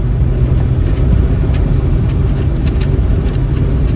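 A small 4-cylinder car engine revs steadily to around 4,000 RPM during a Sea Foam cleaning test, giving a continuous loud low drone with no speech.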